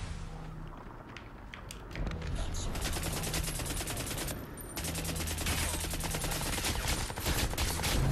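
Rapid FY-71 rifle fire in a video game, with dense bursts of shots rattling through most of the stretch, loud and close, over a low in-game hum, no speech.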